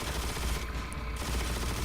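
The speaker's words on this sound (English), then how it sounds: "Make the best use of my grenade launcher." Dense, continuous gunfire from a grenade launcher and weapons in the Shadow the Hedgehog video game, loud and steady for the whole stretch with only a brief thinning midway, no talking.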